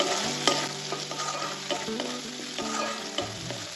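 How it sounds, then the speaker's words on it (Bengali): Grated ginger frying in hot oil in a pan for a ridge gourd curry, stirred continuously: a close, loud sizzle with rhythmic scraping and clinks of the spatula. "এখন আমি এর মধ্যে দিয়ে দেবো 1 ইঞ্চি গ্রেট করা আদাটাও একটু তেলের সাথে নাড়াচাড়া করে নেবো, যেন কাঁচা গন্ধটা না থাকে।"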